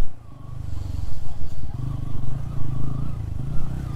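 A Bajaj Pulsar N160 motorcycle rides along a rough Nepali road, its engine droning low and loud with uneven rumbles and rattles.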